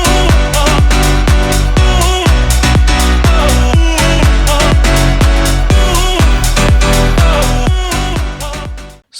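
A piano house groove plays loud and full, with a chopped vocal melody riding over piano chords and punchy kick drums on a steady four-on-the-floor beat that cuts off abruptly at the end.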